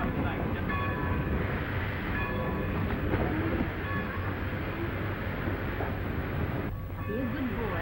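Train rolling along with a heavy, constant rumble and faint rhythmic clatter, loud and near, with voices talking over it throughout.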